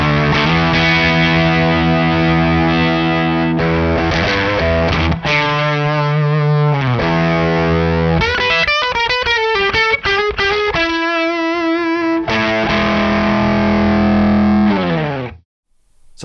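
Electric guitar played through a Jacques Mercer Box fuzz pedal set for more fuzz, giving thick, saturated distorted chords and sliding notes that ring loud and continuous before cutting off near the end.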